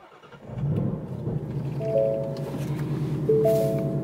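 A supercharged Ford Mustang with a misfire starts up: a starter crank, then the engine catches and settles into a loud, uneven idle with rising revs, recorded close up.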